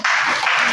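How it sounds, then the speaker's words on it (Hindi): A short burst of loud, dense clapping from a classroom of students applauding a group during a lesson, steady and close with no pause. "इनके लिए, इस समूह के लिए जोरदार तालियां"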